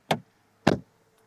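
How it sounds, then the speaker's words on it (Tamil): A Tata Nexon diesel's car door shutting: two solid, close thuds about half a second apart, clear and alone with no talk. "இங்கே டோரோட தட் கேட்டலாம்."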